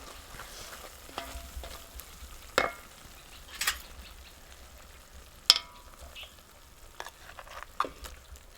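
Onions fry in a pan during village cooking, heard as a faint, quiet sizzle broken by a handful of sharp scraping stirs spaced a second or two apart.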